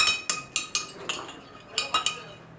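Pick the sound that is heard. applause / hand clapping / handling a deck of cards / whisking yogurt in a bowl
whisking yogurt in a bowl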